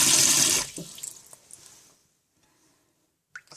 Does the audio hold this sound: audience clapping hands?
no